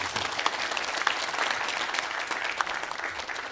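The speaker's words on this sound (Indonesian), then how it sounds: "Saya pengen tepuk tangan dulu untuk Mas Indra." An audience applauds a guest at an event, dense steady clapping at fairly close range lasting throughout with no talking over it.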